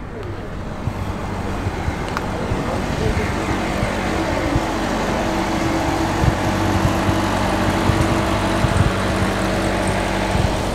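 An old Mack lorry idles at a gathering of vintage lorries near Whitchurch, a low steady engine rumble under wind buffeting and outdoor noise, with someone talking over it.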